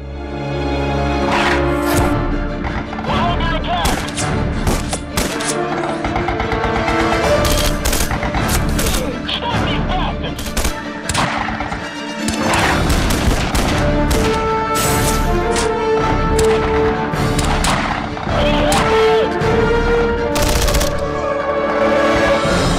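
Dense gunfire from the video game Red Faction Guerrilla Remastered: rapid automatic bursts and heavy single shots pile up continuously, loud and close, with booming impacts mixed in for the whole stretch.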